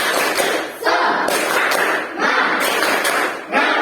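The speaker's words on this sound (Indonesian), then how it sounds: "Tepuk semangat." A school class performs a rhythmic spirit clap together: groups of loud, sharp hand claps in repeated patterned bursts separated by brief pauses, close and energetic, with voices chanting along.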